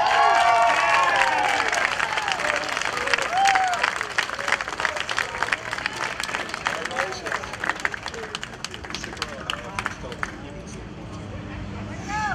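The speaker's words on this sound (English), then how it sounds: "please give a nice round of applause to" Audience applause and cheering for the winner of a local singing competition, dense clapping with crowd voices and whoops, gradually thinning to sparser claps over about twelve seconds.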